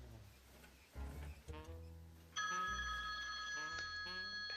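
A telephone rings for a phone-number verification call during an Amazon AWS account setup, the electronic ringtone entering loud and sustained partway through after quieter tones and background sounds.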